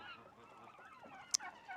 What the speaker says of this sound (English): I can see these turkeys.